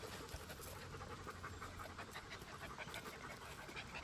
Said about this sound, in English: I'm calling him Happy now because he's a happy dog